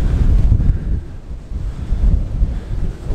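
Strong wind buffets the microphone during an outdoor landscape photography shoot: a loud, continuous low roar that surges and eases in gusts, with no voices.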